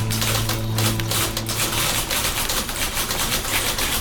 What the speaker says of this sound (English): Oh, they're typewriters, that's what the noise is.